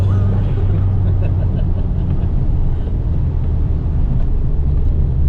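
A car on a foggy mountain road in Wales with hairpin bends, heard as a steady, loud engine and road rumble from inside the cabin with no break.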